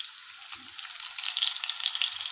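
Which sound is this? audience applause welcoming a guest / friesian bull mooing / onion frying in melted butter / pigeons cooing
onion frying in melted butter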